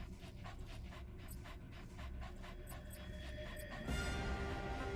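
D-Dog, the canine companion in Metal Gear Solid V: The Phantom Pain, pants steadily and rhythmically up close over a dense bed of game ambience that swells louder near the end.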